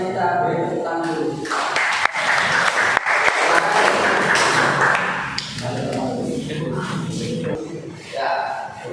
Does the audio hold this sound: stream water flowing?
no